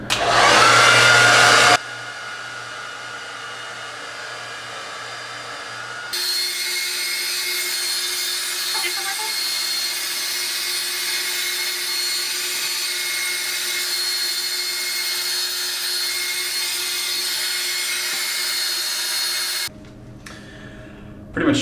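A hair dryer blows steadily on a styled undercut, a continuous loud airy whoosh running for most of the stretch, with brief changes in pitch and level as it is moved, then switched off near the end.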